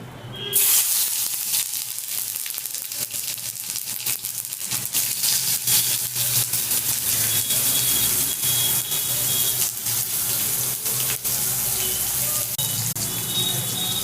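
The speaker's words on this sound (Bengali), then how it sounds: "এরপরে টমেটোটা দিয়ে দেবো" Tomato dropped into hot oil for vegetarian matar dal, a loud, steady sizzling hiss that starts abruptly and continues close up, with faint crackles and brief talk over it.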